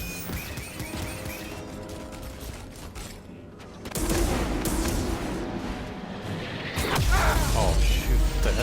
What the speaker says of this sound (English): we've got a walker firing on us, and our weapons are down